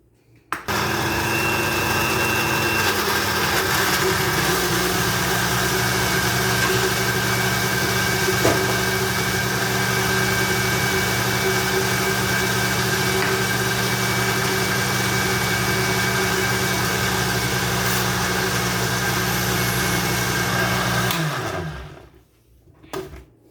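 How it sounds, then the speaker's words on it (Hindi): A kitchen mixer grinder purees mango with sugar, its motor starting abruptly and running loud and steady for about twenty seconds with an even whirring hum before winding down and stopping. "इसको हम ग्राइंड करेंगे इसकी प्यूरी बनाने के लिए।"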